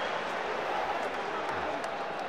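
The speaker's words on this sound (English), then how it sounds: "The Argentinian supporters are up and supporting their team vocally." Argentinian rugby supporters at a World Cup match against New Zealand, a sustained wash of stadium cheering and chanting after a scrum penalty, steady and broad, with a few sharp claps poking through.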